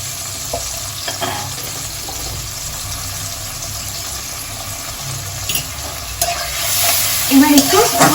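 Cauliflower and potatoes with turmeric and salt frying and being stirred in a pan, a steady close sizzle with scraping stirs throughout, growing a little louder near the end.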